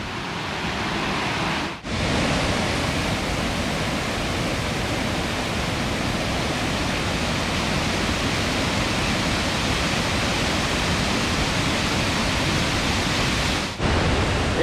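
Bomuru waterfall's first cascade roars as a dense, steady wash of falling water, loud and close, continuing unbroken apart from two brief dips, with no voices.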